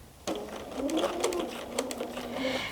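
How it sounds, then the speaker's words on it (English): A sewing machine doing free motion quilting at a short stitch length, a steady soft purring hum with light ticking, close and continuous, under faint talk. "Hear the purr of the machine."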